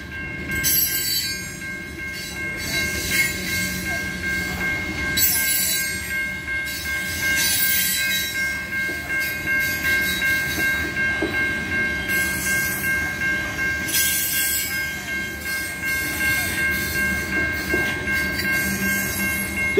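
A 130-car freight train rolls steadily past at Zoschke Road, Riverside, Michigan, wheels clattering rhythmically on the rails with a faint metallic squeal drawn out throughout.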